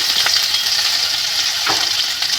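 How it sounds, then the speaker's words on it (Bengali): Ginger sizzles in hot oil, a bright close crackling hiss that stays steady, with a couple of soft stirring strokes. "তেল আমার গরম হয়ে গেছে, আমি এটার মধ্যে কি করব, একটু আদা দিয়ে দেবো"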